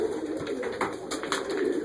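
Soft repeated cooing from a yellow and dun pigeon with two wing bars and a small head cap, close by and steady indoors, with no talking.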